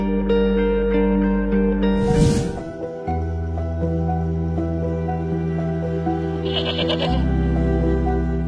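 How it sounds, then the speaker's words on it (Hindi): A goat bleats repeatedly, a bought market goat in a Bakrid scene, its loud sustained calls rising and falling over several seconds and close to the listener, with no talk. "एक बकरी खरीदी है मंडी से और वो मुलाजिम लेकर आ रहा है पीछे"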